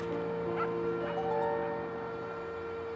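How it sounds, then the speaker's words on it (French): A dog named Toby gives short yips and whimpering barks in a film scene, a few brief calls in the first half over a steady humming background. "Il a aboyé, et lorsque je l'ai appelé par son nom, il a remué la queue."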